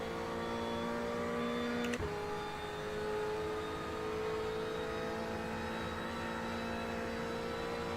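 Race car engine in a racing video game during practice for the Bathurst 12 Hour, a sustained high-revving whine with one sharp gear change near the start, steady and close throughout.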